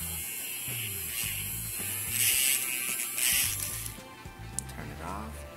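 A small electric ink mixer shakes a bottle of nail polish with a loud, steady buzzing vibration and rattling. It cuts off near the end, leaving a brief rising whir.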